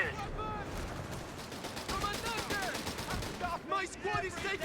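Rapid gunfire in the World War II strategy game Company of Heroes 3 on a North Africa map, with dense bursts of automatic fire and shots mixed with in-game voices and battle noise.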